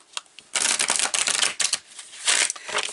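Tarot cards pulled and shuffled from a deck during a Pisces reading: a close, crisp flurry of papery riffles and slaps in uneven bursts, with no talking.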